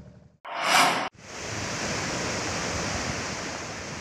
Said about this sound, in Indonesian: karena ombak besar disertai hujan dan angin kencang